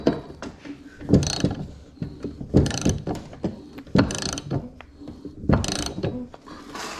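A 7/8 socket ratchet working on the spindle of a John Deere LA140 riding mower, giving repeated bursts of clicking and metallic ratcheting, close by and fairly loud, with short pauses between strokes.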